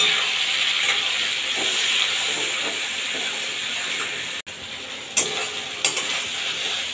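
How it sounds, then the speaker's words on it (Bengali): Onion, ginger, garlic and tomato sizzle in a frying pan for a pointed gourd and shrimp curry, a steady loud hiss broken by a brief cut and a few clinks of stirring. "এখন পেঁয়াজ, আদা, রসুন, টমেটোটা দিয়ে দেবো, দিয়ে ভালোভাবে কষিয়ে নেবো একসাথে।"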